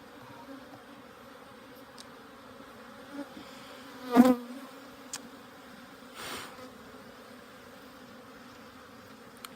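Honey bees hum at an opened hive during a spring inspection, a soft, steady buzzing throughout with a few closer, louder passes and small clicks of frame handling. No one speaks.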